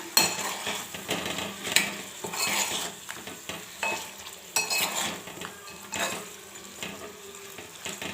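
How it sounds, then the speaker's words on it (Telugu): A spoon stirs turmeric and salt into a chicken curry in a pan, giving repeated scraping and clinking strokes over a soft sizzle, close and fairly quiet, with no talking. "పసుపు వేసేసుకుందాం అలాగే కరికి సరిపడే సాల్ట్ కూడా వేసేద్దాం వేసేసుకొని ఒకసారి కలిపేసుకుందాం"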